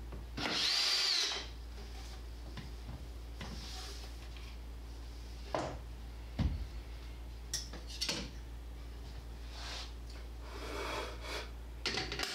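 Power drill driving screws into wooden strips on the side of a workshop machine cabinet built as a drill and miter saw stand. One loud, sustained whirring burst comes first, followed by quieter intermittent knocks and clatter.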